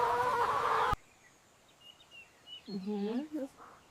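A single chicken gives a short series of harmonic clucking calls near the end, after a brief burst of louder sound, over a quiet background.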